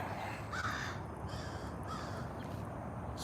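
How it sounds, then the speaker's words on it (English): Crows caw from trees in a garden, three harsh calls spaced about a second apart, moderately distant, set against a faint broadband outdoor hiss. "The crows are almost rude. I mean, I like the crows, but the way they crow,"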